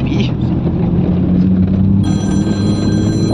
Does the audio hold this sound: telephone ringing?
yes